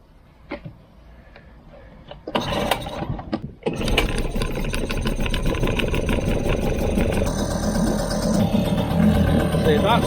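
An old two-stroke boat engine sputters, then catches and runs with a buzzy, steady drone that grows louder and persists close by, with people talking over the start.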